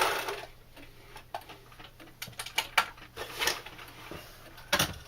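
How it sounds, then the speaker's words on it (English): A Boxer dog named Princess plays with her ball indoors, making a string of sharp irregular ticks, clacks and knocks that come and go at moderate loudness, some in quick clusters, with a faint steady hum underneath. "Hear a bit of noise in the background, that's my Boxer Princess playing with her ball"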